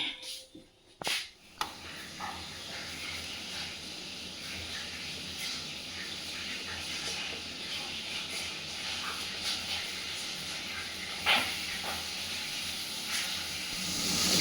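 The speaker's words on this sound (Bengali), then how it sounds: "চলো এখন খাবো চা। চাটা গরম করে নিই।" Tea warming on a kitchen stove gives off a steady steam hiss that holds at a moderate level throughout, with a few brief knocks near the start and a short bright flare of hiss late on. No one speaks.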